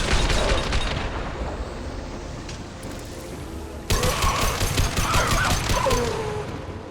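Sustained gunfire and explosions in the sci-fi shooter Mass Effect 2 during a suicide-mission battle, a dense rattling barrage that swells sharply louder midway and keeps pounding without letup.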